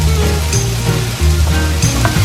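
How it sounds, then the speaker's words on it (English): Onion and mushroom stir-fried in a pan, a loud, close sizzle broken by quick stirring scrapes at a regular pace, with no voices. "we can stir fry the onion first and the mushroom"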